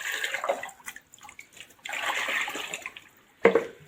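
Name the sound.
mixing potash fertilizer into water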